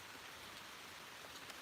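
Rain falls outdoors as a faint, steady hiss with soft patter throughout, heard alone without any voices.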